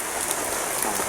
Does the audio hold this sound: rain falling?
yes